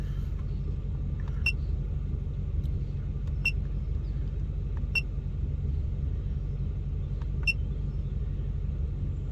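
A car engine idles just after a cold start, a low steady rumble that stays even throughout, with a few faint high electronic beeps or clicks from a heads-up display over it.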